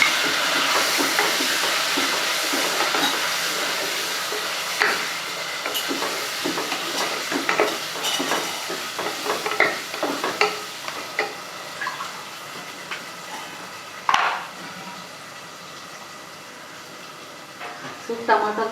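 Tomatoes go into frying mutton tahri in a pan. A soft hiss and sizzle runs throughout, broken by scattered clinks and scrapes of stirring, with one sharper knock midway.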